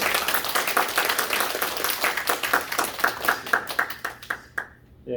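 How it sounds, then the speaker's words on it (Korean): Church congregation clapping to welcome and bless a visiting pastor, a close, steady patter of many hands that thins into a few separate claps and fades out near the end. "우리 박수로 한번 환영하고 축복하는 박수 드리겠습니다."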